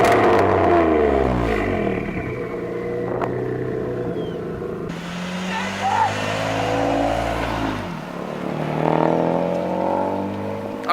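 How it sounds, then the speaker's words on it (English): Straight-piped car fitted with a G35 downpipe: a loud, rasping exhaust rises and falls as it revs and passes nearby, with turbo whine layered in and voices talking over it. "I want to listen to the turbo go."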